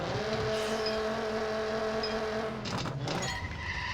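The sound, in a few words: race car engine over-revving in video game Need for Speed No Limits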